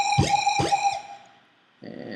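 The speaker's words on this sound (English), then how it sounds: "So I wanted to give it kind of a wobble effect" A synth with a wobble effect from an agitator at 1/8 and a fully opened gate makes two sharp pitch-swooping pulses, then a sustained tone that fades, before a buzzy gated chord returns near the end.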